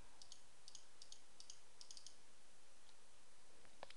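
Soft clicking of a computer mouse in a Windows 8 settings dialog, a quick pair of faint clicks repeated several times in a steady pattern, up close and without talk.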